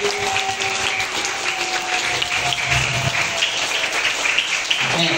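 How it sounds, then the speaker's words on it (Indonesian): Children applaud at the fire and rescue department office in North Jakarta: steady, dense clapping from a group that fills the room for several seconds without a break. "Tepuk tangannya mana?"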